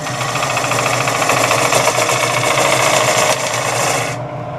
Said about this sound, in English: There are several more minutes of scraping.